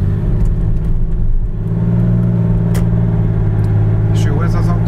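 A Porsche with an automatic gearbox and a short exhaust system idles and revs with a deep, steady engine drone, loud and close, with voices talking over it.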